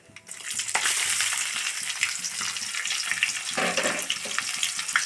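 Mustard seeds and chopped shallots fry in two tablespoons of coconut oil, giving a steady, close, bright sizzle that runs throughout with scattered crackles and a brief busier burst partway through.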